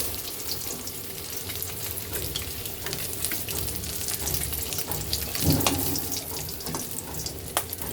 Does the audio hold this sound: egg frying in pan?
yes